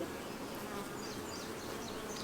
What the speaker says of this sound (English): The bees are getting a little testy.